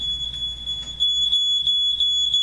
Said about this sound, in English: And a fire alarm.